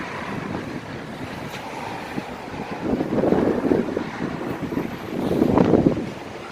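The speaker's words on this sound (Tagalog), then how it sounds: "Sa Pilipinas po bagyo ng ulan. Dito bagyo ng buhangin." Strong sandstorm wind in the U.A.E. roars against the microphone in broad rumbling gusts, swelling twice to loud peaks over a constant rushing background, with no voices.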